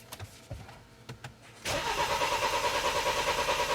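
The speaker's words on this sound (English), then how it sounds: "Crank it again." A BMW X3 with a defective fuel pump cranks without starting. A few quiet clicks are followed by a loud, close, steady starter churn with a slight pulsing rhythm that never catches.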